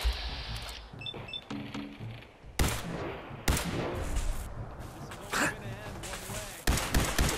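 Gunfire in the video game Fallout 4 during a robot fight: sharp bursts and loud cracks break out repeatedly over a busy game soundscape, with a voice talking between the shots.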